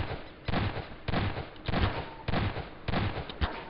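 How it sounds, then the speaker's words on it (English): An object in a video game fires repeatedly, sharp loud shots recurring at a steady rhythm about every half second over a noisy background. "It's firing all the time."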